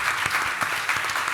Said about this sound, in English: Can we get a round of applause for our 4 panelists?